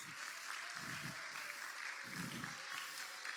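A church congregation at a Pentecostal service claps hands steadily in continuous applause, with a fairly quiet, even wash of clapping.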